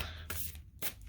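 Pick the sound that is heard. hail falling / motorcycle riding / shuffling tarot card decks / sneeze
shuffling tarot card decks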